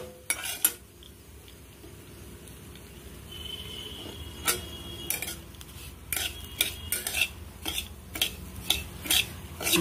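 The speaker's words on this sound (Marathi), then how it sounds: "आणि रवा पण परतून घेऊ।" Semolina with cashews and almonds is stirred and roasted in ghee in a pan for mango sheera, with a steady scraping and stirring and repeated clinks of a spoon against the pan, closer and louder in bursts toward the end.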